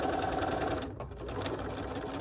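A sewing machine stitches a fabric needle book, running steadily and close throughout with a brief dip in its hum near the middle.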